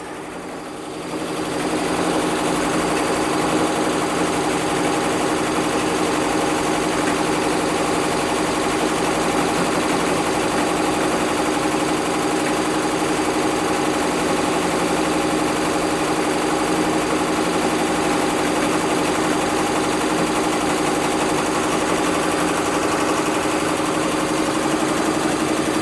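A Juki Tajima Sai 8-needle embroidery machine stitching steadily at close range, a constant loud mechanical hum with a fast even rhythmic chatter that runs unbroken throughout.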